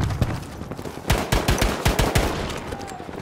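Gunfire in the video game Battlefield V, a rapid series of sharp automatic shots in quick bursts, close and punchy, with a short quieter stretch before a second volley.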